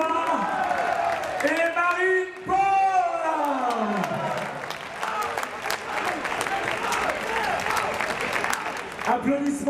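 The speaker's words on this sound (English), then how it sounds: "Applaudissements également à l'équipe britannique qui est loin d'avoir démérité" A crowd cheers and applauds after the women's national-team final of the 2010 ITSF foosball World Cup, with sustained clapping and whoops while a commentator talks over the noise.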